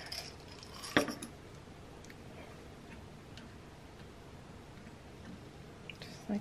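A metal spoon clicks against small wax beads while a wax seal is prepared, giving faint close ticks and one sharper clink amid soft handling noise and quiet background.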